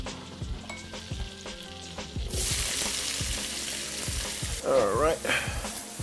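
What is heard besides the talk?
vegetables sizzling and stirred in a pan for fried rice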